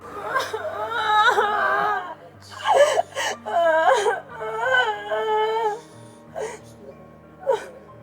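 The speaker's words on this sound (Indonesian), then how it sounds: "lo tambah nangis lagi, tambah kencang lagi nangisnya" A woman cries loudly in repeated wailing, sobbing bursts with gasps between them, close and prominent, with a low hum underneath.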